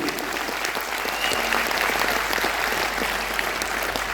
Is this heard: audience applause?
yes